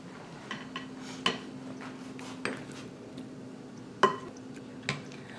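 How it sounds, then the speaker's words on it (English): Fruit being scooped into bowls for a homemade Mother's Day brunch: a few distinct clinks and scrapes of a utensil against dishes, spaced irregularly over a quiet kitchen background with a steady hum. "now I'm going to scoop the fruit into the bowls"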